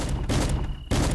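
Loud gunfire in the zombie shooter video game Zompiercer, with two heavy blasts in quick succession that fill the short moment.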